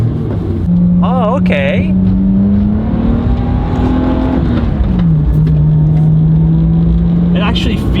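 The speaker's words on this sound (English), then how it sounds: "Let's go drive the Chaser, see how it is." A Toyota JZX100 Chaser engine drones loudly from inside the car as it drives, holding a steady note, rising slightly, then dropping and settling, with a brief spoken remark over the engine noise.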